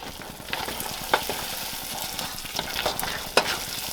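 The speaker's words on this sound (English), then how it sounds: "Stir this all in here." Butter being stirred into a hot homemade peanut brittle mixture, thick scraping stirs over a soft sizzle with occasional sharp spoon knocks, close and alone.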